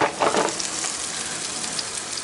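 Food searing in a Blacklock cast iron skillet, a steady close sizzle and crackle of frying that runs evenly throughout with a brief louder burst at the start.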